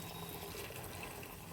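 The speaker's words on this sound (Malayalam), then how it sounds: "ഇനി നമ്മൾ ഈ പാലാണ് അട കുക്ക് ചെയ്യാനായിട്ട് ഒഴിക്കുന്നത്" Milk pours in a steady, soft liquid stream into a cooking pot for making palada ada, continuous and fairly quiet.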